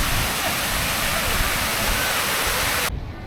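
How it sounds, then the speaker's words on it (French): Pineapple Fountain in Charleston splashing steadily, a loud, dense wash of falling water heard up close that cuts off abruptly near the end, leaving quieter ambience. "On est revenu à la fontaine ananas."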